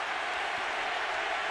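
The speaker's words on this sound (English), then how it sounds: "And the crowd picks up the chant." A boxing arena crowd roars in a dense, continuous wash of chanting and cheering, loud and unbroken for a brief moment.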